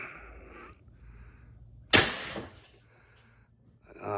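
A single sharp shot from a Pistelle x68 air gun rated at 146 joules cracks out loud and close, then decays over about a second into a quiet background.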